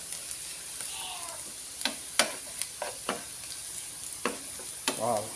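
Garlic and ginger fry in a pan, giving a quiet steady sizzle with scattered sharp ticks and crackles and a couple of stirring scrapes near the end.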